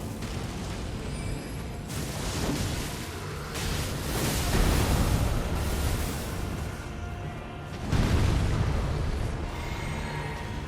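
Fire attack striking an enemy in Elden Ring, a dense roaring whoosh of flames with heavy booming surges that swell and fade over several seconds.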